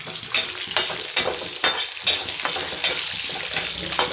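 Garlic sautéing in oil in a pan for a lentil chutney, a steady loud sizzle broken by regular scraping stirs of a spatula against the pan, with no talking.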